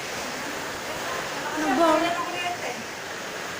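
Heavy rainstorm water pours and splashes in a constant dense rush, swelling briefly midway, with a voice speaking over it.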